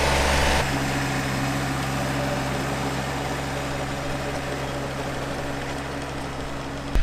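John Deere compact tractor tilling a field for sweet corn planting, its engine holding a steady, unbroken drone for the whole stretch at moderate distance, with no talking over it.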